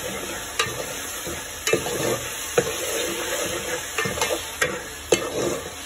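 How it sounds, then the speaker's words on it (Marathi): Spiced masala with tomato puree, red chilli, coriander powder and turmeric roasts in a pan for chicken bhuna, a steady sizzle broken by sharp clinks of a spoon stirring against the pan every second or so. "मी छानपैकी भाजून घ्यायचं आपल्याला मसाल्याला"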